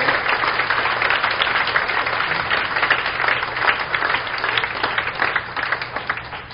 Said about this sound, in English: Come on, the best clap of praise to the Lord